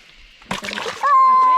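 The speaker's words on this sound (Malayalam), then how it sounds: "മീനെ അത് പ്രാണരക്ഷാർത്ഥം ഓടുക കേട്ടോ തെറിച്ച് തെറിച്ച് പോവാ" A freshly caught fish from a tarpaulin farm pond thrashes in a small cup and throws water out in a sharp, close burst of splashing. A voice follows right after the splash.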